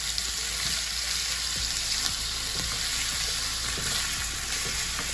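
Beef mince fries in a pan, a dense, steady, hissing sizzle with a few faint stirring scrapes underneath, continuous and fairly loud, with no speech.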